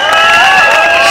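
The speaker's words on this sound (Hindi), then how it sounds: "जोरदार ताली होनी चाहिए हमारे" An audience claps and cheers loudly and steadily for a child dancer at a sangeet celebration, a dense crowd roar with a bright whistling tone over it.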